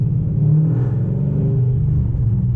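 The V8 engine of a 20-year-old F-body car revs in a loud, steady, deep rumble that rises and falls slightly, heard alone without talk.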